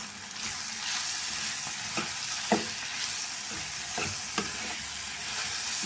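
Vegetables for veg semiya sauté in a hot kadai, a steady close sizzle broken by several sharp scrapes and knocks of a stirring spoon against the metal.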